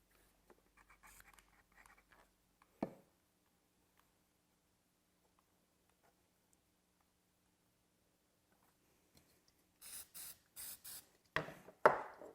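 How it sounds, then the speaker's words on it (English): Glue accelerator is sprayed onto a miter joint of a waterfall table in a quiet workshop. A few short, soft hissing spray bursts come near the end, after faint handling noises. "Little bit of accelerator, don't go crazy with the accelerator."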